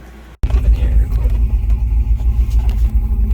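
A Gen V 5.3-litre V8 in a GMC Sierra truck, fitted with a BTR cam, idles with a loping, uneven rumble, loud and close, after a brief silence at the start.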